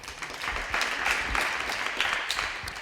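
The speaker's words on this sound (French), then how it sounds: "avec la Team Vega, que je vous demande d'applaudir, avec sa capitaine, Farron Mary Schneider." Soft, steady applause from a crowd at a televised bowling mixed team presentation, distant and fairly faint, without talk.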